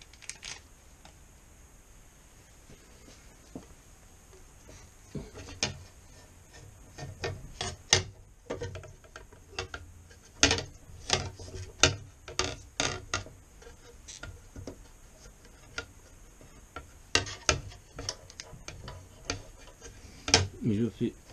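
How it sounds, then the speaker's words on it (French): Screws being driven in by hand to fasten a plate, bursts of close ratcheting clicks and scraping in irregular runs separated by quieter pauses. "on va visser le plateau"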